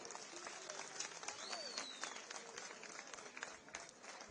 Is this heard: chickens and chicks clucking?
no